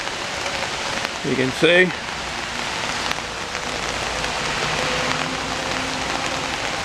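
Steady rain patters onto puddles outdoors in New England, a constant close hiss of drops, with someone briefly speaking over it.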